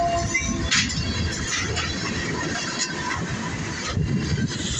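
A short southbound Norfolk Southern mixed freight train rolls past a road crossing in Dayton, Ohio, with a steady close rumble of wheels and cars, rattling clanks and gusty wind over the microphone.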